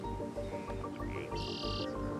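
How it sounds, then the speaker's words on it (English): Birds chirp and call in short bursts over a steady low buzzing of bees, all fairly faint and with no voices. "I can hear the bees buzzing and the birds."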